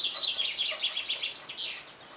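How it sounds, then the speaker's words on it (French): Several small birds chirp and twitter in quick, overlapping bursts, fairly close and clear over a soft outdoor background, with no talking. "vous entendez les oiseaux en même temps"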